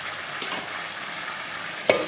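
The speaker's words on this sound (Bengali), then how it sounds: "এখন মশলার সঙ্গে আলুগুলো খুব ভালোভাবে কষিয়ে নেব" Potatoes frying with spices and a little water in a pan, a close steady sizzle with soft stirring scrapes and a sharp clink near the end.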